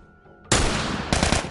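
Rifle gunfire in The Last of Us bursts in suddenly after a quiet stretch, a loud, dense run of rapid shots with a second harder volley near the end.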